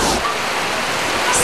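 Very heavy rain pours down during water rationing in Batasan Hills, Quezon City, a dense, steady, loud hiss of downpour filling the whole moment without letup.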